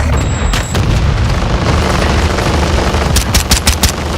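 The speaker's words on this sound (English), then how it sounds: "Semtex!" A Semtex grenade blows up during a shooter video game in a loud booming blast, with dense gunfire crackling around it and rapid shots near the end.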